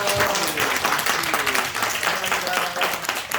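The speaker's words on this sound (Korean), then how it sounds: "자, 이렇게 나오셔서 우리 어르신들 감사하다고 사랑한다고 박수하겠습니다." A church congregation applauds its elders with sustained, dense clapping that fills the room throughout, while a voice speaks over the applause.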